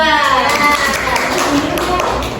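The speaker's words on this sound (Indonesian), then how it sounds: "Tepuk tangan untuk kelompok 2." A class of primary school children claps for a group of classmates, a fairly loud burst of clapping close by with children's voices and talk over it.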